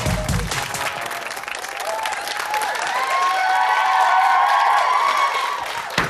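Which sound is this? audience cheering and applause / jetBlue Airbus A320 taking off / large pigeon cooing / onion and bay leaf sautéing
audience cheering and applause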